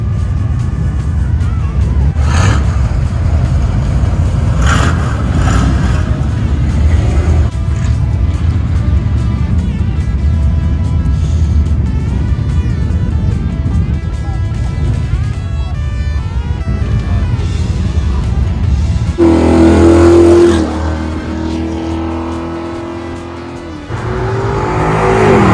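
A long line of cars cruising past on a street during a toy drop-off event, engines rumbling and revving continuously, with a louder acceleration and passing roar near the end.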